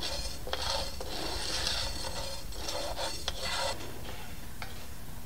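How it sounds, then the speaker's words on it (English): Coffee beans are stirred constantly in a pan over an open fire, producing a continuous dry rattling scrape in repeated strokes, close and fairly quiet with no talking. "put it over the fire, making sure I'm stirring it constantly."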